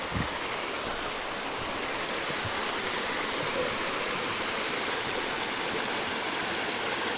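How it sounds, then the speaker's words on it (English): Steady, full rushing roar of a waterfall beside a forest hiking trail on the North Fork Quinault in a temperate rainforest, continuous and fairly close with no voices over it. "Waterfall."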